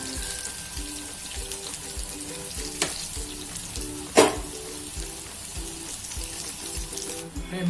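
Bajra methi balls frying in a mustard-seed tempering, a steady close sizzle with a couple of sharp clinks or pops, under faint background music.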